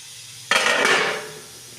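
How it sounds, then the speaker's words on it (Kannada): Ingredients for a brinjal palya drop into a pan on a gas stove, setting off a sudden clattering burst of hiss and sizzle that lasts about a second, then fades back to a quiet hum. "ಇವಾಗ ಹಂಚಿನಾಗ ಅಷ್ಟು ಇಂಗ್ರೀಡಿಯೆಂಟ್ಸ್ ಎಲ್ಲ ಹಾಕಿ ಹುರ್ಕೊಳಕತ್ತೀನಿ ನೋಡಿರಿ"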